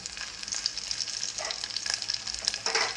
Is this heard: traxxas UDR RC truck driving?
no